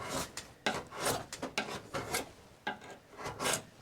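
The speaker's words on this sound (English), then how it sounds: "it's as simple as just peeling this stuff off, and it goes pretty quick as long as it doesn't try and dig into the metal" A sharpened scraper peeling seam sealer off sheet metal in the body of a Chevy Caprice box car, a series of close, raspy scraping strokes in irregular bursts.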